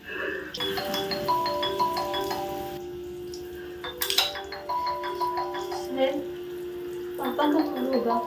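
A mobile phone rings indoors with a melodic electronic ringtone, repeating its bright chiming phrase in loud bursts with short pauses between them.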